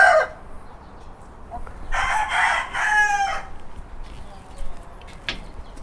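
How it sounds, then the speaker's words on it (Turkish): A rooster crows loudly nearby in a couple of bursts, with five hens clucking softly around it. "Bunlar da 5 tavuk bir horoz olaraktır."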